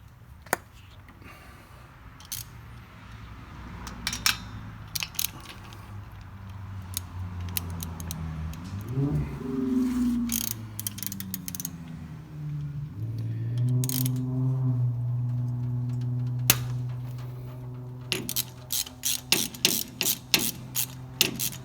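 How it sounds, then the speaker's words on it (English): A ratchet works spark plugs out of a car engine in quick bursts of sharp clicking near the start and end, separated by a stretch of low, steady humming. "I'm gonna start pulling some plugs out."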